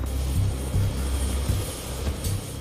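A helicopter climbing toward launch height, a steady loud rotor drone with rhythmic low thumping beats throughout, no voices.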